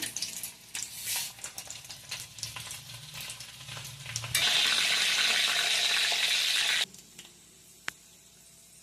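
Dried red chillies and urad dal frying in hot oil for a tempering, a soft crackle under stirring that bursts into a loud, steady hiss for a few seconds, then cuts off with only faint clinks.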